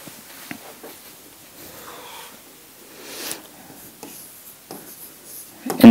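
A pen scratches across paper in short, faint strokes with pauses between them, quiet and close, ending in a louder bump.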